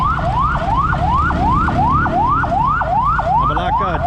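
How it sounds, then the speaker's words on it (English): A Philippine district hospital ambulance siren passing close on a street, a loud, rapid, regular yelping wail repeating steadily over traffic noise. "The ambulance coming through."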